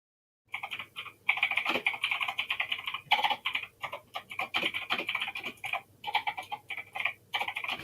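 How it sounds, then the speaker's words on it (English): Mechanical computer keyboard typing in rapid, uneven bursts of sharp clacks, close and fairly loud, running almost continuously with brief pauses and no talking. "we can hear your mechanical keyboard clacking"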